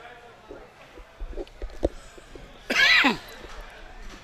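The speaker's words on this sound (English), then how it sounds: "He's starting to cough." A man gives a few short coughs followed by a louder, harsher burst of coughing near the mic during a 9-ball pool match, with a quiet background.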